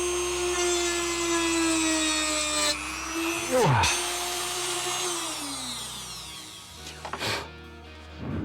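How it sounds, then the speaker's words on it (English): A Dremel rotary tool cuts into a Yamaha Attitude bass guitar body in short bursts, its high whine rising and falling as the motor changes speed, fairly loud and close, stopping between passes. "Biggest problem with this Dremel is you have to keep cutting it in really small increments"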